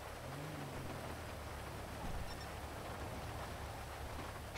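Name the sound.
rain in the video game GTA 5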